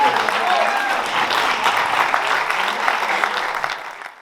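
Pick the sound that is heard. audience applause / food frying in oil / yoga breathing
audience applause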